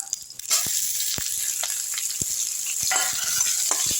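Onions sautéing in hot oil with fenugreek, dried red chillies and curry leaves for a drumstick-seed sambar, a steady close sizzle broken by sharp scraping stir strokes, no voices.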